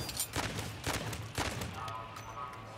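A few heavy gunshots from a weapon in Modern Warfare 3 Zombies, three or four spaced blasts about half a second apart, moderately loud, followed by quieter game ambience.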